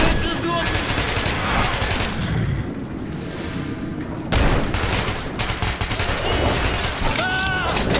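Guns fire in the Metro 2033 Redux video game in loud, rapid bursts that crackle close by, with one brief lull partway through before the shooting resumes just as hard.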